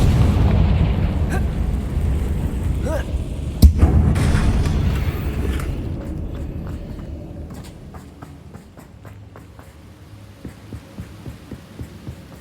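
A Confringo blasting curse goes off in the Hogwarts Legacy video game, one sharp, loud boom at about four seconds over a low rumbling bed, followed by fading rumble and scattered faint thuds.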